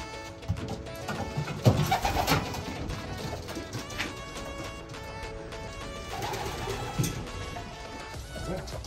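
Pigeons coo softly in a loft amid a dense wash of bird sounds, low murmuring calls layered continuously under busy background chatter from many birds.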